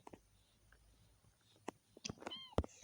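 A small kitten gives a few short, high meows near the end, after quiet moments broken by faint clicks and rustles.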